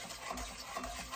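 Close, soft gritty scraping of a spoon stirring a pecan candy sugar mixture in a pot, brief and continuous with no voices.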